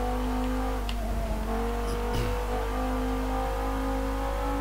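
Car engine droning steadily in the Forza Motorsport 7 racing game during a Driver's Cup event, a constant mid-level hum with slight revving shifts and occasional faint squeaks, no talking.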